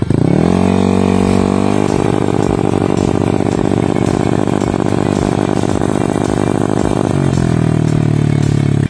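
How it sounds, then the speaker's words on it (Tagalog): A motorcycle engine with a sputtering fault runs loud and close in a steady, uneven buzzing drone, then its pitch drops and settles near the end. "pakinggan nyo nga pala yung pagpugak niya"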